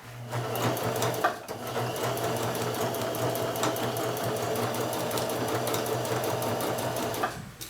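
Sewing machine runs steadily along a curved seam in fabric, a close, continuous rapid clatter of stitching with a brief pause partway through.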